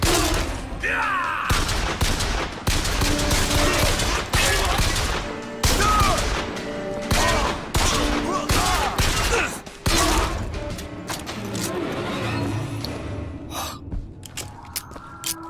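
Bursts of gunfire from shooting enemies in Bioshock Infinite, repeated loud volleys and sharp shots in irregular clusters amid combat noise and grunts, close and continuous.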